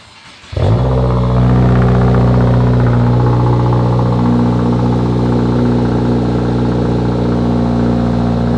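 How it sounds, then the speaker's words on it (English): A 2022 Subaru WRX fitted with a Perrin charge pipe cranks over after a short quiet moment and settles into a loud, steady idle with a constant low rumble that holds for several seconds, no voices. "Just gonna start it up. We're gonna warm it up."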